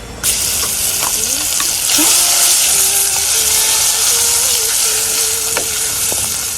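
Homemade curry paste hits hot oil in a pan for a Sri Lankan fish dish, bursting into a loud, steady sizzle up close, with a voice faintly audible over it.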